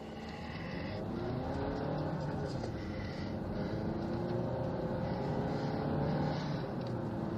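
A road car pulls away hard from a standstill with the engine revving continuously and building steadily in pitch as it gains speed, loud and close from inside the cabin, with no talking.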